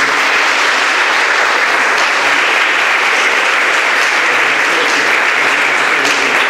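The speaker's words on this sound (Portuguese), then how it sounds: "Um forte aplauso." Dense, loud audience applause fills a certificate presentation ceremony in Madureira, Tramandaí, as a thick, steady wash of many hands clapping close by, sustained without a break and with no speech over it.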